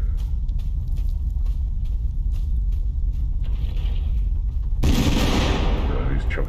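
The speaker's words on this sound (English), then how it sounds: "He's chucking grenades." Booming grenade explosions in the battle royale game Totally Accurate Battlegrounds, a loud continuous rumbling blast bed that surges abruptly into a bigger, brighter explosion near the end, with no clear talking.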